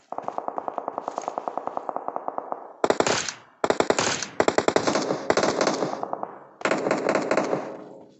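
An M249 machine gun in PUBG Mobile fires one long steady stream of rapid rounds, then several shorter loud bursts with brief pauses, harsh and close with an echoing tail.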